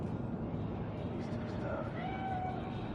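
A cat meows a few times in the video game Cyberpunk 2077 on the streets of Night City, faint and drawn-out cries over a constant bed of ambient city noise.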